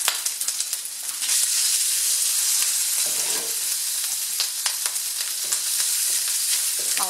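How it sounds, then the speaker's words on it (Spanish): Ginger and other ingredients sautéing in a hot pan, a steady close sizzle with stirring scrapes running throughout, with no voices. "Vamos a dorar esto un poquito."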